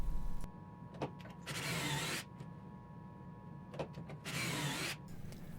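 A drill drives pocket hole screws into wooden boards in two bursts of whirring, each about a second long, with light handling knocks and quiet pauses between them.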